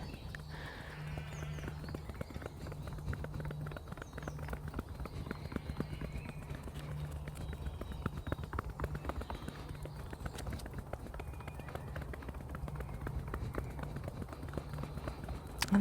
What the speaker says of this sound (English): So using my hands like cups, forming little bowls. Sometimes this can sound like horses' hooves,